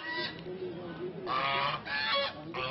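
Geese honk on a sewage-flooded neighbourhood street in Mohammadpur, Dhaka, in repeated loud, nasal bursts close by, separated by brief quieter gaps.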